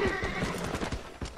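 A horse in the Red Dead Redemption video game clip-clops and neighs during a short burst of hoofbeats, close and clear in the game audio.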